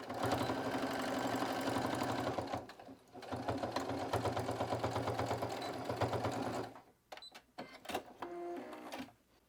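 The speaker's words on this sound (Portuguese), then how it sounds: "vou passar uma costura com um pé de máquina" A sewing machine stitches bias binding onto a fabric pencil case, a loud close steady whirring hum of rapid needle strokes, pausing briefly and then running again before stopping with some clicks and handling.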